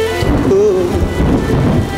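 Steady heavy rain falling with a thunderstorm, dense hiss of drops over a continuous low rumble of thunder, loud and enveloping, with a faint tonal line riding on top.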